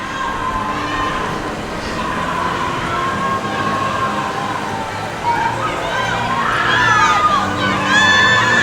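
Stardust Racers roller coaster trains at Universal's Epic Universe rush past amid a steady, loud crowd of cheering and shouting riders and onlookers, with screams swelling toward the end.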